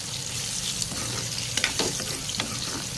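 Mango pieces sizzle steadily in a hot pan while cooking ulava charu, a constant frying hiss with a few brief stirring clatters and scrapes partway through.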